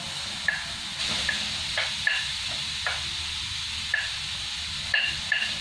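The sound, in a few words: grated carrot sizzling as it is added to hot pan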